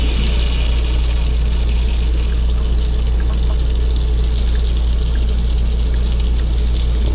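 An RV motorhome tap runs hot and cold water, the hot side flowing weaker, as a loud, continuous, even rush with no one speaking.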